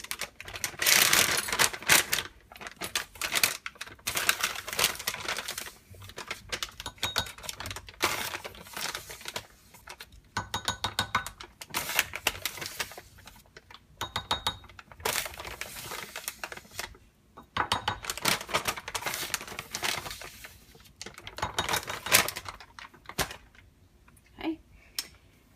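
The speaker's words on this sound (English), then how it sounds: "Stir this up really well." A spoon stirs arrowroot powder into a homemade deodorant mixture in a bowl, giving a long run of close, quiet scraping and ticking in irregular bursts with short pauses and no speech.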